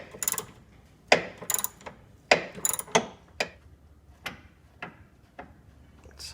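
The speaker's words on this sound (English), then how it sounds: "I have the wrench lodged up here against this metal framing, and then I have the ratchet on the inside of this opening" Ratchet wrench clicking on the upper torque mount bolt of a Pontiac Fiero GT in a tight engine bay, quick bursts of close, sharp ratcheting clicks repeated several times with short pauses between strokes.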